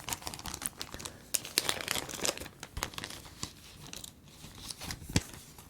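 A Pokémon promo card slides into a plastic binder sleeve with close, crisp crinkling and rustling, broken by a few sharp plastic snaps and scrapes over about six seconds.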